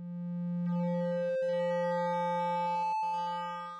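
A Novation Peak synthesizer plays a sustained triangle-oscillator tone shaped by its wave shaper, steady and bright with rich overtones, with two brief dropouts partway through. No voices.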